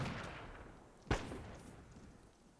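Gunfire in the Myth II: Soulblighter strategy game, heard as a single sharp, loud report about a second in, standing out from a low, steady background.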